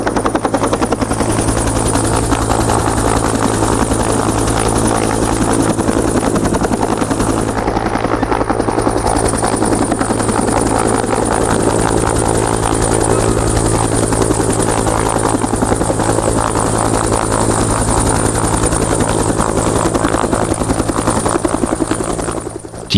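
A helicopter carrying a live horse to the Faroe Islands makes a steady, loud, close rotor thrum with a constant high engine whine that holds for over twenty seconds, with no speech over it.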